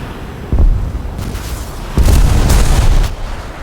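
Two heavy booming blasts from a howitzer in the P-16 combat game, the first at about half a second and the second, louder and longer, near two seconds, each with a rumbling tail.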